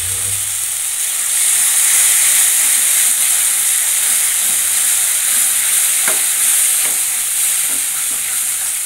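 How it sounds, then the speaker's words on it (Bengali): Poppy seed paste fries in spiced oil for katla fish curry, giving a loud, steady close sizzle and hiss with a few faint utensil taps and stirring scrapes. "এর মধ্যে পোস্ত বাটাটা দিয়ে দিচ্ছি।"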